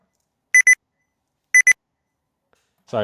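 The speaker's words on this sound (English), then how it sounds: "my alarm's going off." An alarm clock beeps in two quick double bursts about a second apart, clear and electronic, followed by a brief rustle at the end.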